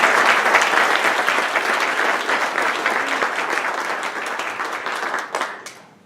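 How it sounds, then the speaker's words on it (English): An audience at a Pima County Board of Supervisors meeting gives a loud, dense round of applause that gradually thins and fades out near the end. "Let's give her a nice round of applause."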